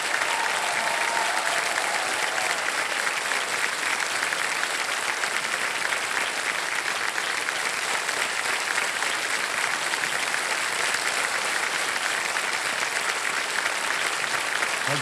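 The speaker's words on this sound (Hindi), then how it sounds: "ताली बज जाए इनके लिए।" Studio audience on a TV quiz show (KBC) applauding steadily, a dense, even clapping that fills the whole stretch without pause, with no talk over it.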